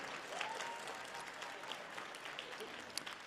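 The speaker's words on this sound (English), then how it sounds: "A round of applause for those courageous students and partners" Steady applause from an audience at a luncheon event honoring students and partners, dense clapping filling the room at moderate level with faint crowd murmur.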